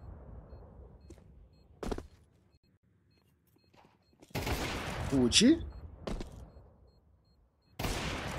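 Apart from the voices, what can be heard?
gunfire in a video game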